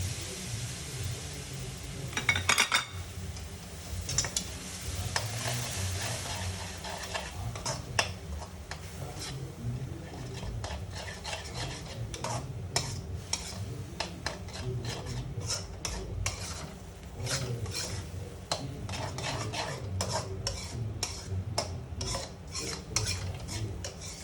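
Ground cashew, coriander, spices and tomato puree sizzle and fry in a pan for Shahi Paneer while a spoon scrapes and stirs steadily and rhythmically, close by with no talking.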